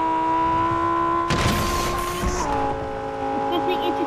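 Lamborghini in Fortnite driving with a steady engine drone that shifts pitch partway through, broken by a loud crashing burst in the middle.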